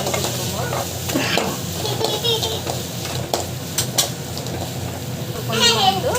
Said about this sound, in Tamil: நல்லா வந்து வதக்கிக்கணும்